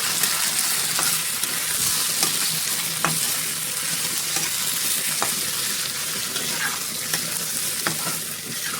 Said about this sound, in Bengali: এইটা আমি দিয়ে খুব সুন্দর করে কষিয়ে নেবো।